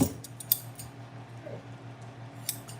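Sharpened sewing scissors snipping through material, giving a few crisp, quiet cuts near the start and end over a low steady hum.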